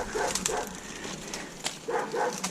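A dog barks in a few short, moderately distant bursts spread across a couple of seconds, with a faint yelp between them and no talking.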